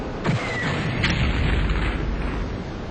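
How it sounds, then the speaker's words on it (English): Explosions in the video game Terror From The Deep, a loud, dense rumbling blast with a few sharper bursts blending into one continuous boom, with no talk over it. "There's like 5 explosions going off right next to the thing."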